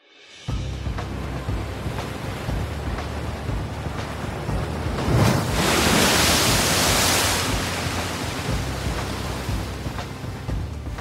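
Ocean surf breaks in a steady, loud broadband roar that swells to a heavier crash around the middle and then settles back into a continuous wash, with no voices.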